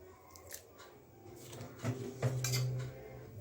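A utensil stirs a milk mixture seasoned with salt and black pepper in a pot, making quiet scraping sounds and a few sharper metallic clinks against the pot's side.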